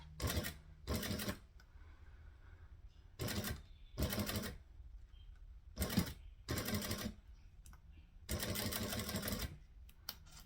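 A sewing machine stitches through about eight layers of thick vinyl in short loud bursts of rapid needle strokes, roughly seven runs separated by quiet pauses.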